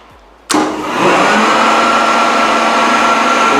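A robot vacuum cleaner switches on abruptly after a quiet moment and keeps running with a loud, steady whirring roar.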